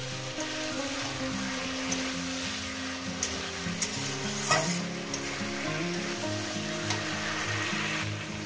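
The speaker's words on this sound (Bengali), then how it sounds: "দেখুন বন্ধুরা কীভাবে মাছের মাথাটাকে কষিয়ে নিচ্ছি।" Catla fish head being stir-fried with spices in a pan, a steady close sizzle and crackle running throughout with occasional sharper spits and the scrape of stirring, no talking.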